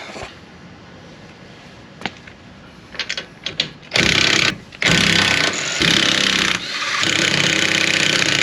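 A wheel comes off a Nissan 370Z. Scattered clicks and clanks are followed by loud bursts from a power impact tool rattling off the lug nuts, up close with short pauses between runs.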